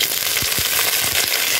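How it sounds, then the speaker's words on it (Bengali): Green chillies fry in hot oil that has just been used for garlic. The sizzle is loud and close, with short bursts of crackle and spatter throughout. "এখন আমি দিয়ে দেব এই তেলের মধ্যে এই কাঁচা ঝালগুলো।"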